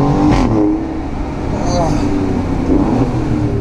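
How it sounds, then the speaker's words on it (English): A sports car engine revs quickly to the limiter, a loud, close rasping rise and fall of engine note heard from inside the cabin, with a short exclamation from the driver. "Revs very quickly, and that was not even half throttle, and I hit the limiter"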